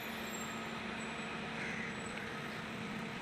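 KSRTC bus pulling into Panaji bus stand in Goa, a steady loud diesel engine rumble with a continuous idling hum and faint high hiss, close by, with no talking.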